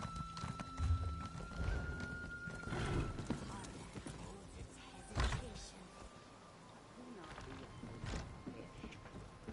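Horse sounds in the video game Elder Scrolls Online as a mount is summoned and ridden, with hoof clops, a whinny and scattered thumps, fairly quiet, and a voice speaking partway through.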